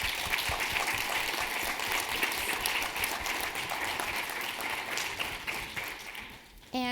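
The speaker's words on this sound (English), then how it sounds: "join me in a warm round of applause to all the speakers" Sustained audience applause fills a conference hall after an AI global governance breakout session, dense steady clapping that carries for several seconds before tapering and cutting off.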